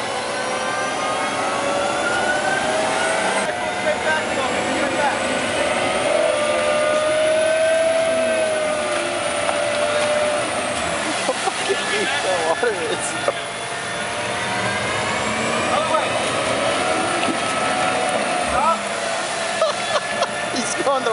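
An M1 Abrams tank's turbine engine roars and whines as the ditched tank works to get unstuck, a loud, sustained rising and falling jet-like howl close by, with voices talking over it.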